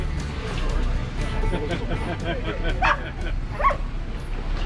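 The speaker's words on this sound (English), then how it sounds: "The little pug dog." A pug in the back window of a car at a winter off-road jeep gathering in Southern Utah gives a couple of small yips and whimpers, faint amid engine rumble and people talking nearby.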